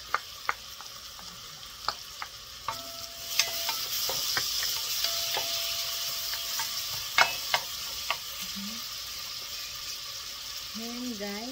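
Garlic fries in a pan with a soft, steady sizzle, broken by scattered sharp clicks and scrapes of stirring, fairly quiet and close.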